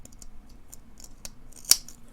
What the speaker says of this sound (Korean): 여기는 이렇게 가위밥을 주세요.